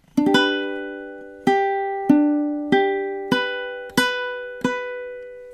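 Ukulele strumming measure two of a song, six evenly spaced ringing strums that each decay before the next, played alone and close.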